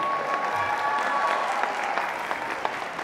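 A graduation commencement crowd claps continuously, a dense, sustained wash of applause that holds steady throughout, with no voices rising above it.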